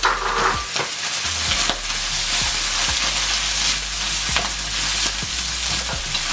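Chopped, previously cooked bacon sizzles and crackles loudly in hot oil for fried rice, a steady dense hiss broken by repeated stirring scrapes and clanks.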